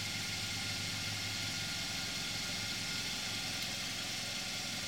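A 2014 Kia Forte 2.0 GDI engine running at steady idle, a continuous even hum with a faint ticking rattle over a low drone, close and unchanging.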